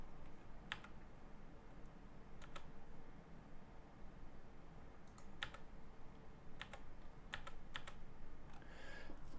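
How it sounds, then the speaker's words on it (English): Scattered keystrokes on a computer keyboard during a late-night coding session, faint sharp clicks in small irregular bursts over a quiet room hum, with no voices. "some fantastic typing there."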